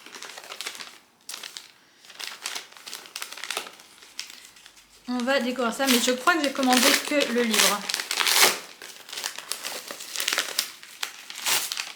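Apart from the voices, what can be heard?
paper packaging crinkling while unpacking book mail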